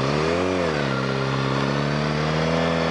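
A Suzuki SRAD 750 motorcycle with completely stock exhaust accelerates hard, its engine note rising smoothly and loudly in pitch as it pulls through the revs, close by and continuous.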